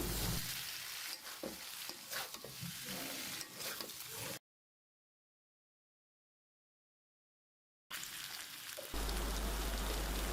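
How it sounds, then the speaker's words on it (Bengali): Stirring and scraping potato cutlets with dried chilli powder in a hot pan with a steady sizzle, broken by a few seconds of silence before the frying sound resumes. "এখন শুকনা মরিচের গুঁড়া আলুর কাটলিতে দিয়ে ভালোভাবে নেড়ে চেড়ে মিশিয়ে নিচ্ছি"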